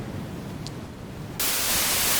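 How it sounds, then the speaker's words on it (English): Harsh, hissing noise synthesized with 4klang jumps abruptly louder and brighter partway through as distortion is applied, continuing as a dense, distorted static wash. "distortion makes it louder."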